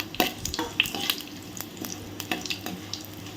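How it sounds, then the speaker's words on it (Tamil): Spices sizzle softly in a pan while a utensil scrapes and taps against it, stirring in an irregular rhythm. "இப்போ இது எல்லாத்தையுமே நல்லா மிக்ஸ் பண்ணி விட்ருவோம்"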